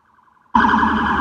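A faint wavering siren is joined abruptly by a loud, close wailing siren that holds steady to the end.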